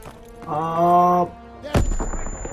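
A grenade detonates in the Call of Duty WW2 video game, a sudden sharp blast cutting in after a sustained tonal game sound, then trailing off into lingering rumble and debris.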